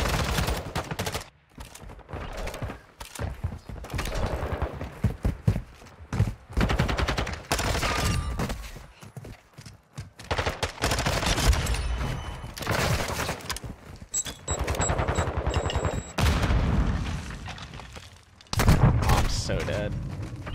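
Rapid gunfire bursts crackle through a ranked online shooter match as a player is pre-fired through a gate, with repeated loud volleys, short pauses and voices talking over the shooting.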